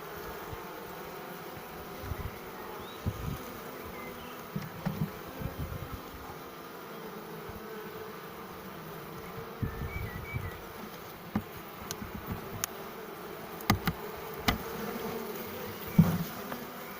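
A wild swarm of honeybees drones steadily while being settled into a hive, a continuous close buzz with scattered sharper passes and knocks from handling the hive frames.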